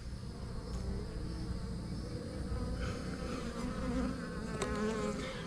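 Many bees buzz around an open beehive in a bee yard, forming a steady, close, dense drone that fills the whole stretch without talking.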